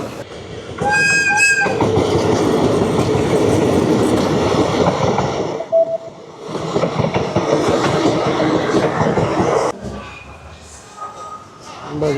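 A loud train rumbles past at close range through Khlong Tan railway market, with steady clattering wheels and a brief horn-like tone, fading then returning; voices and market noise sit underneath.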